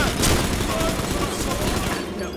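Volley of gunfire from a line of soldiers in Bioshock 2, a dense, loud broadband burst of shots that rings on for about two seconds amid shouting and battle noise.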